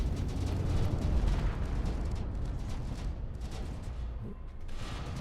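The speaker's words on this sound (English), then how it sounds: "Some of these heavy battery shots actually landing now." Heavy battery shots strike ships during a Space Engineers PvP tournament match, a continuous dense rumble of booming impacts and explosions that stays loud throughout.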